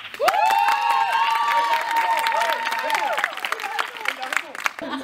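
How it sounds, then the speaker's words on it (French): A live audience gives the pigeons a thunderous round of applause, loud shouts and whoops rising over clapping across the whole stretch, then easing slightly toward the end. "un tonnerre d'applaudissements"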